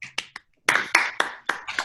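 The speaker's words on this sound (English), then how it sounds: "I clap your hands." Small group of children at a library storytelling and magic show clapping hands, a few short sharp claps then a quick run of louder claps in irregular rhythm, close and alone without talk.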